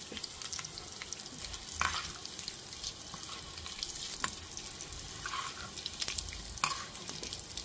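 Tempering seeds such as mustard and urad dal frying in oil in a pan on a home stove, a continuous sizzle with scattered pops and crackles and occasional stirring clinks, fairly close, with no talking.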